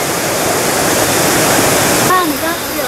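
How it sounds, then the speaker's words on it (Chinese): Manyueyuan waterfall in a national forest recreation area rushes in a loud, unbroken roar of falling water. A brief faint voice appears near the end. "满月圆瀑布"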